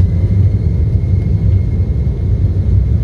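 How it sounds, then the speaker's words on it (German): An airplane on a flight from Madeira to Germany accelerating down the runway for takeoff, heard from inside the cabin as a loud, steady, deep engine roar and rumble that holds constant without a break. "Guck mal, jetzt hört ihr das? So fängt mein Flugzeug an."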